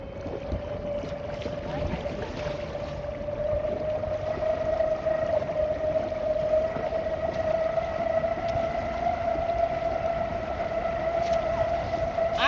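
A DIY electric outboard motor drives an Intex Challenger 3 inflatable boat through water, giving a steady high-pitched whine over splashing and wind noise, close and continuous, growing slightly louder partway through.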